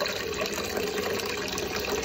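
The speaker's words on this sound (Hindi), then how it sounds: "पहले पानी डाल रहा हूँ।" Steady gush of water being poured in for washing clothes, a continuous rushing fill with no pauses, close and fairly loud, alone with no talking.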